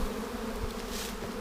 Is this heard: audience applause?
no